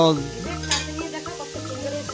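Shrimp frying and being stirred in a pan, with a soft sizzle and a few spoon-scraping stirs over about two seconds.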